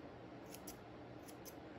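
Small scissors trimming sculpted eyebrow hair on a clay-style bust, four quick faint snips in two pairs over a soft steady hiss, with no talking.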